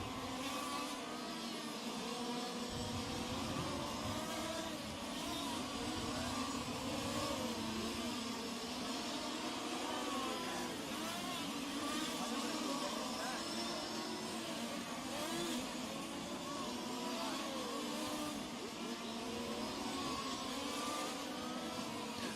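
Fifth-scale on-road RC race cars at the IFMAR World Championships at Steel City RC Raceway scream around the track, their small engines revving and whining continuously in an overlapping, loud, steady din of multiple cars passing without pause.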